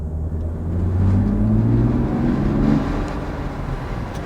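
A 2020 Mercedes GLS 400d diesel engine hums steadily from inside the cabin while driving in comfort mode through Salt Lake City, Utah, a smooth, low, continuous drone with a gentle rise in pitch and no talking.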